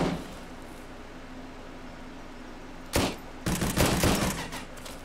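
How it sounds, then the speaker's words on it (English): Gunfire from the post-apocalyptic shooter Zero Sievert: one sharp nearby shot cracks out, then after a short pause a rapid burst of several shots follows, fading away afterward. "I shot a guy."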